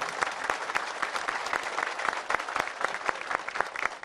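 Sustained applause from a crowd at a welcoming ceremony for wrestler İsmail Balaban in Döşemealtı, dense steady clapping filling the whole stretch at an even, moderately loud level with no talk.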